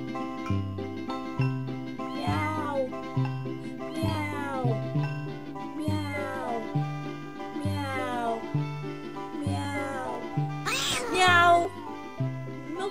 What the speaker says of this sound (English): Multiple meows.